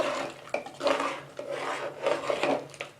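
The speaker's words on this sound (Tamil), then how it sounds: "சேர்த்துட்டு நல்லா ஒரு வாட்டி கலந்து விட்டுக்கலாம்." A spoon stirs coconut paste into mutton kuzhambu in a pressure cooker, making repeated rasping, scraping strokes against the pot in a loose rhythm, close and fairly loud with no talking.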